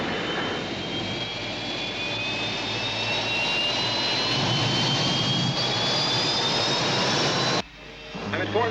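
A rescue spaceship flies past as a sci-fi TV sound effect, a sustained roaring jet-like drone with slowly rising whining tones that cuts off abruptly near the end.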